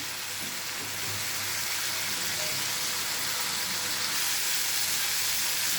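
Tomatoes fry in hot oil for a lentil-free rasam, giving a steady, close sizzle with broadband crackle that holds evenly throughout, with no voices.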